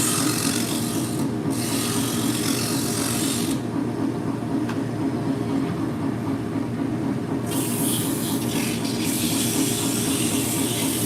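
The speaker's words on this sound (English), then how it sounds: "This is a sandpaper that I love. This is Gator Flex Films." Continuous, close rasping of Gator Flex Films sandpaper, a plastic-backed abrasive, rubbing steadily across a surface, loud and unbroken with brief changes in texture.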